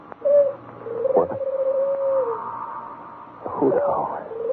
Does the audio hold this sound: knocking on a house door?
no